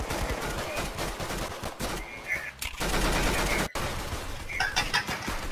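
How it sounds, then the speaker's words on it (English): Rocket launcher and pistol fire ring out in the Roblox Arsenal video game. Rapid bursts of shots and blasts repeat throughout, with one sharp, punchy crack standing out midway over a dense, busy game soundscape. "Oh, that's for sure a rocket launcher. And a pistol now."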